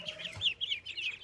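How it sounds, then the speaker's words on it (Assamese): Ducks at a home pond give a quick run of short, nasal, repeated calls, fairly close and moderately loud, with no talking. "সেয়া মাহীহঁতৰ হাঁহ"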